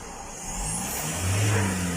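A Mazda BT-50 Pro pickup engine revs up during acceleration in a repair shop, a moderately loud mid-pitched drone that climbs steadily in pitch and volume.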